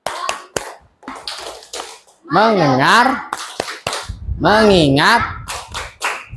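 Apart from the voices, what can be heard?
class doing concentration clap pattern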